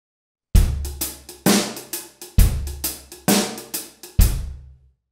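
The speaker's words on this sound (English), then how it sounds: "the halftime shuffle, like I said before, I'm just going to do half as many snares" Drums lay down a slow, laid-back halftime shuffle, heavy low hits alternating with lighter strokes in an uneven swung rhythm, close up and alone.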